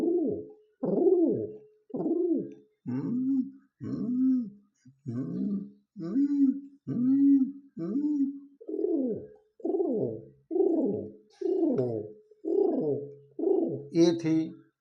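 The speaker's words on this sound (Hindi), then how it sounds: "ये थी कबूतर की आवाज़।" A pigeon coos over and over in soft, throaty bursts, about a dozen rolling calls in steady succession, close and clear with no talking.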